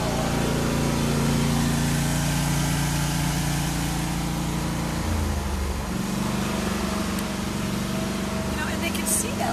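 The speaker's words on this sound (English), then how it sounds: "Zoe barks at the lawn mower." A lawn mower engine runs steadily and loud nearby throughout, its drone shifting pitch partway through, with a dog barking at it and people talking over the noise.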